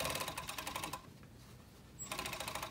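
A serger runs fabric through in fast rhythmic bursts while skimming a circular knife-edge bolster seam, with a brief pause mid-way before the stitching resumes, fairly close.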